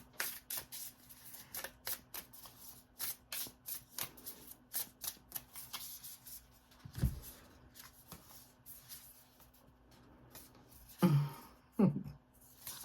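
Tarot cards being shuffled by hand in a quiet room, soft repeated riffling and flicking in short bursts, close and faint, with a couple of sharper taps near the end.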